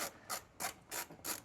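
A ratchet wrench with a 10 mm socket clicks in five short, evenly spaced bursts while loosening a headlight bolt on a Toyota Camry, close and crisp with no talk.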